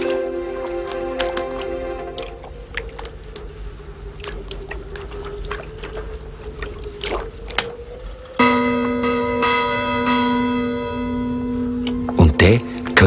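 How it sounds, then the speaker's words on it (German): A bell rung again in a Swiss German children's story, heard as ringing metallic tones with a sustained hum, becoming louder and more resonant partway through, with a few sharp clanks near the end. "Und der Lars hat den Plempel gefunden und bringt die Glocke wieder zum Läuten."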